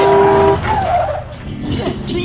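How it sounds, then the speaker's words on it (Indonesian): Car tires skidding and squealing in a near collision, a sharp, loud screech that fades quickly into rumbling noise and scattered movement sounds. "si supir yang bernama Chuck tanpa sengaja hampir menabrak sebuah mobil"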